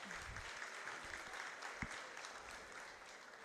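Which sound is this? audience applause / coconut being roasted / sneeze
audience applause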